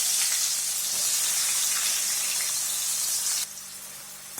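Onions and garlic with mustard seeds and cumin fry in hot oil for tomato rice, a steady close bright sizzle that softens a little near the end, with no voices.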